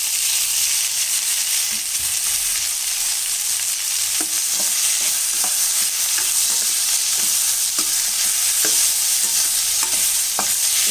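Chopped tomatoes and onions with curry leaves sizzle steadily in a hot pan for tomato rice, with a continuous loud frying hiss and occasional scraping clicks of a spoon stirring through them.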